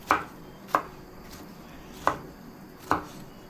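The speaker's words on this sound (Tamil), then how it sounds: "ரவுண்டாக வெட்டி எப்படி சின்ன வெட்டிட்டேன்." Vegetables are chopped into small round pieces on a cutting board in a home kitchen while breakfast is made: four crisp, close knife strikes at a slow, uneven pace over quiet room noise.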